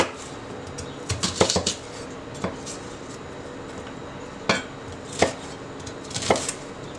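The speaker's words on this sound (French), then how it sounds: "Et on va couper l'échalote." A knife cuts through a shallot on a cutting board, giving a handful of sharp, close chopping taps, some in quick clusters and others spaced apart, against a quiet kitchen background.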